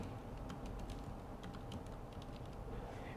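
Steady run of close keyboard clicks as a command is typed on a computer keyboard while setting up a CentOS web server, the keystrokes rapid and even throughout with no talking.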